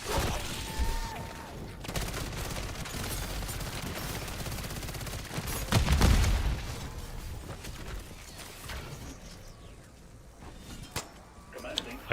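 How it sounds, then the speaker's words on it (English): Call of Duty MW sentry gun rattles through a long stretch of steady automatic fire amid game combat noise, with a heavy low thump midway and voices talking over the shooting. "Sentry gun deployed."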